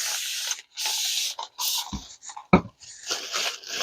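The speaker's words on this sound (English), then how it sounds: "Alcohol spray." Alcohol is sprayed from a spray bottle onto a craft mat to clean off resin, giving several short, close hissing bursts separated by brief pauses.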